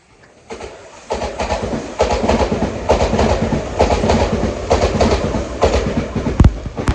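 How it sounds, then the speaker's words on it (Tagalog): A train, a newer model, passes close by outdoors in Japan, with steady rhythmic clickety-clack of wheels over rail joints that builds after a quiet start and holds loud to the end. "bagong klase ng train yun na dumaan ngayon"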